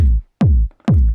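Three solo hits of a tech house kick drum driven through a distorting drum bus, each a loud, hefty thump with a gritty click on top, spaced evenly about half a second apart.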